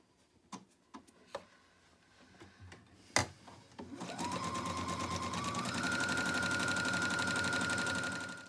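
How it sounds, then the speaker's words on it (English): A sewing machine runs a zigzag stitch around the edge of a fabric surgical cap: a few scattered clicks and taps, then a steady, close mechanical whir with a rapid needle rhythm lasting several seconds. "next we're gonna do the zigzag stitch all the way around to catch all the loose threads"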